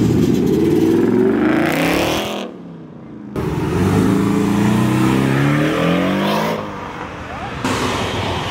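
Loud car accelerating hard up the street at a Cars & Coffee meet, its engine roaring close by with rising revs and a brief drop between pulls, while people talk and react nearby.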